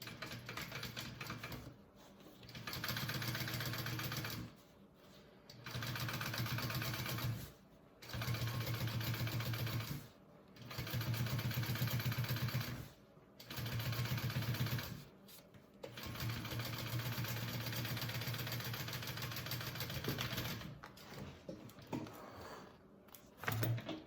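A sewing machine top stitches a bag accent piece in bursts, running several seconds at a time with short pauses between, close and fairly quiet, with a longer continuous run toward the end.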